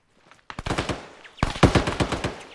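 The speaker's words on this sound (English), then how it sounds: "there's a heavy machine gun southwest somewhere" Heavy machine gun fire in ArmA 3, two bursts of rapid, booming shots close by with echoing tails, the second burst louder and longer.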